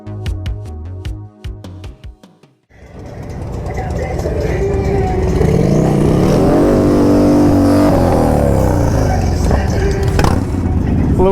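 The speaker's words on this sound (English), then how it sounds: "A little burnout happening there." A turbocharged motorcycle does a burnout on an evening ride. After a quiet opening with tonal chiming, the sound jumps to a loud, sustained engine roar with rising revs and a broadband tire-scrub hiss that lasts to the end.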